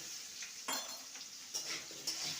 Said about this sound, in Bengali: আলুটাকে দু মিনিট ভেজে নিয়েছি এবার কাঁকরোলগুলোকে দিয়ে দেবো কাঁকরোলগুলোকে ভেজে নেব